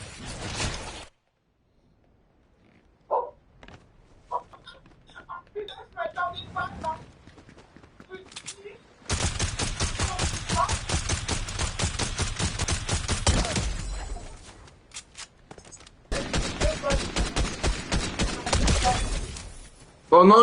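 Fortnite gunfire crackles in sharp bursts through a video game match, with rapid volleys and scattered shots mixed with game sounds while players chatter in French.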